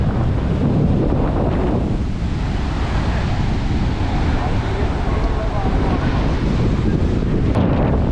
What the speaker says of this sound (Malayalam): നല്ലപോലെ തിരയും കാര്യങ്ങളെല്ലാം ഉണ്ട് കേട്ടോ